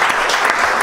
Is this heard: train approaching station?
no